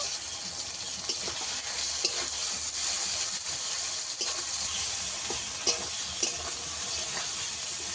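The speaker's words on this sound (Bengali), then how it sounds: "আদাটাকে দিয়ে ভালো করে একটু ভেজে নিয়েছি" Chopped ginger fries in hot oil in a pan for a rupchanda fish curry, a steady close sizzle and hiss running throughout with occasional stirring scrapes, no voices.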